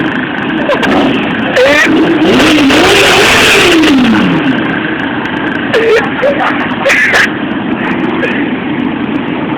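A motorcycle engine revving loudly and steadily up close, with rising and falling pitch sweeps and a few sharp bursts of noise, while voices talk over it.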